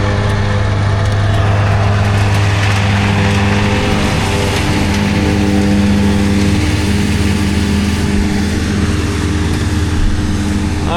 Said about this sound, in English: Alright, he's mowing.